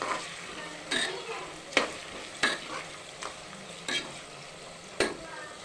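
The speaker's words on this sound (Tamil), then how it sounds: "வெங்காயம் ஒரு கொஞ்ச நேரம் நல்லா வதங்க விடுவோம்" Onions sauté in a pan for mushroom biryani, a low steady sizzle broken by periodic stirring scrapes of a spoon against the pan, close and without talk.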